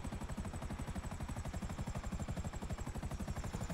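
A Buzzard attack helicopter in GTA V Online flies with a steady, fast rotor chop that pulses evenly throughout, droning alone with no voices.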